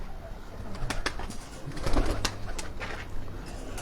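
Pigeons coo on a rooftop among the havelis, soft repeated calls mixed with fluttery rustling and scattered sharp clicks against a steady outdoor background hum, with no talking.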